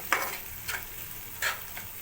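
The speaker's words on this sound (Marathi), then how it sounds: "आता थोडासा मिक्स करूया त्याच्यामध्ये परतून घेऊया थोडासा मिठामध्ये" Onion and tomato sauté in a pan with salt for a Koli-style octopus kheema, with three quick scraping stirs over a faint, continuous sizzle.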